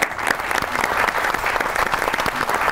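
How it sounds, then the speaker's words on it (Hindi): Steady studio audience applause on a Pakistani comedy talk show, dense clapping at even loudness throughout with no voices over it. "बहुत सी ताली होनी चाहिए उनके लिए"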